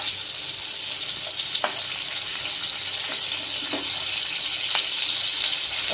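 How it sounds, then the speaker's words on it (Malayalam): Beef steak with garlic frying in a pan: a steady, close sizzle that fills the whole stretch, with a few soft taps and scrapes as the meat is turned, no voices. "ഓവർ കുക്ക് ആകാതെ തിരിച്ചും മറിച്ചും ഇട്ട് ഇതുപോലെ ഇത് വേവിച്ചെടുക്കണം"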